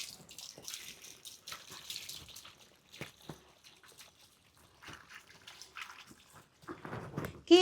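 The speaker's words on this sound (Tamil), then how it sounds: "இனி அப்படியே கொஞ்சம் தண்ணி ஊற்றி" Water poured over a dog during a bath, with soft splashes, drips and trickles in scattered bursts at close range, fairly quiet overall.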